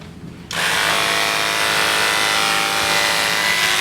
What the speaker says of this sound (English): we'll start to clip against the grain of hair.